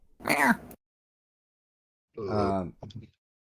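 A cat lets out a short, close meow, then after a pause gives a second, longer call followed by a brief trailing sound.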